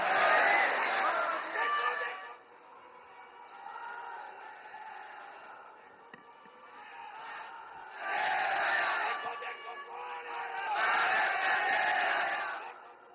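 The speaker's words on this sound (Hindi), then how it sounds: "प्रधानमंत्री श्री नरेंद्र मोदी जी को वंदन सह आइए जोरदार तालियों के साथ आमंत्रित करते हैं अपने बहुमूल्य मार्गदर्शन के लिए" A large crowd at the Somnath event cheers in three loud swelling waves, with a quieter stretch of voices and murmur between them.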